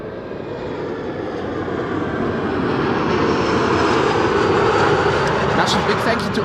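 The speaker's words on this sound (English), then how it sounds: "175 from KLM is going to pass us by in a moment. I'm not going to film its landing, but you will hear it on the mic" A KLM airliner passes at Amsterdam Schiphol Airport, its engine roar a steady, broad rumble and hiss that swells slightly as it goes by, loud and fairly near, with no voices over it.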